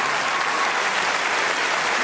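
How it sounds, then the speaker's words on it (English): Dense, steady applause from a large theatre audience at a comedy festival gala, welcoming the opening act, a dance troupe; loud and continuous throughout with no gaps. "And a round of applause for your opening act"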